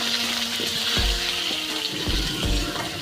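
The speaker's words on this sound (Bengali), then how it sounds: "আলুগুলো একটু নেড়ে ছেড়ে নিয়ে 1 টিস্পুন হলুদ গুঁড়ো এবং 1 টিস্পুন নুন দিয়ে ভালোভাবে ভেজে নেওয়া হচ্ছে।" Potatoes frying in a pan with turmeric and salt, a steady hiss and sizzle with occasional clinks and low thumps from stirring, heard close and alone.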